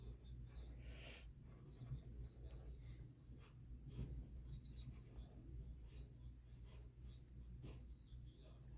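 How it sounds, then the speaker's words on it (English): A Posca marker glides over sketchbook paper in soft, faint strokes, with short scratchy rubs and pauses as words are lettered. Quiet room noise and light breathing sit underneath. "Now it's time to move on to this page where we now write again in that pretty marker."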